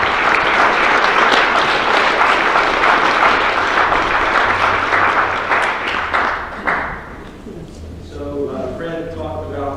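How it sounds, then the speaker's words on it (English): An audience applauds a keynote speaker at a symposium: dense, loud, sustained clapping that fades toward the end as a voice begins speaking over the dying applause. "Please join me in applauding"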